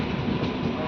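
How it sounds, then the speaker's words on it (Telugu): A DEMU train pulls into Ghatkesar station, a brief steady rumble of rolling coaches with no voices over it. "గట్కేసర్ స్టేషన్కి మన ట్రైన్ చేరుకుంది"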